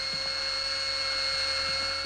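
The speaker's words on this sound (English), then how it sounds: "I'll just drill into a healthy tooth until I reach the pulp." Dental drill boring into a tooth, a steady, high-pitched whine that holds at an even loudness throughout, with faint scraping ticks beneath and no talking.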